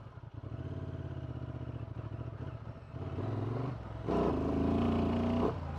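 A 2024 Honda Transalp 750 motorcycle engine under full traction control revs in uneven bursts that repeatedly cut out, the loud mid-pitched drone rising and dropping in stages close by.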